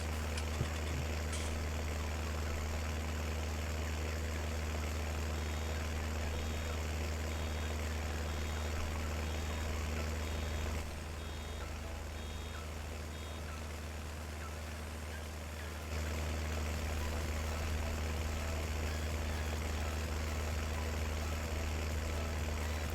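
A tractor engine in the Farming Simulator video game pulls a Lely baler, giving a steady, loud low drone with a constant hum and a slight dip in level midway.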